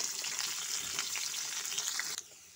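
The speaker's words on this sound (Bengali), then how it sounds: "সবজিগুলো আমি নেড়ে নিচ্ছি প্রথমে।" Vegetables being stirred in hot oil in a pan for chicken stew give a steady, soft sizzle and frying crackle with light scraping throughout, and no talking.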